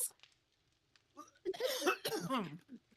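After a quiet start, a close, raspy coughing fit breaks out, several rapid coughs running together in two strained bursts.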